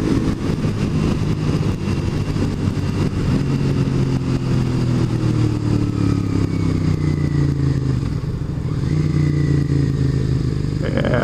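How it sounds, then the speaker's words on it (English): A motorcycle's small engine revs and accelerates while being ridden, loud and close, its pitch climbing and dropping through the gears over a constant rush of wind and road noise. "Awesome little engine this thing has."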